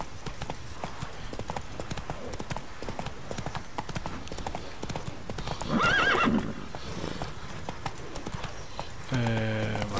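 A horse gallops in the video game The Witcher 3, steady rhythmic hoofbeats throughout, broken by a loud whinny midway and a second neigh at the end.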